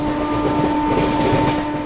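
The Secunderabad Rajdhani Express, heard from on board in first AC, rolling through a junction near Agra Cantt with a steady rumble, faint wheel clatter and a constant tonal hum, continuous and close.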